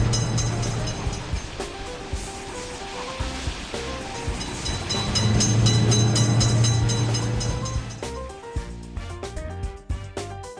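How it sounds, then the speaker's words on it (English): A train in a railway level-crossing video game rolls past with a loud, continuous rumble and rattle of wagons, a sustained horn blast through the middle, then clattering wheels as it fades. "Attention, train is coming."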